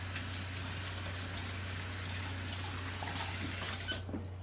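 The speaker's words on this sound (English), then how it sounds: "Rinse it off." A dropped piece of food is rinsed under running tap water: a steady, faint stream of flowing water over a low hum, with a brief squeak.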